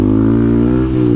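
A Honda Grom motorcycle engine revs loud and close, a steady buzzing drone held for about a second with a slight dip near the end and no talking.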